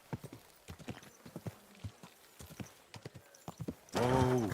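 A horse in the video game Kingdom Come: Deliverance II, irregular clip-clopping hooves followed by a loud, close neigh at the end.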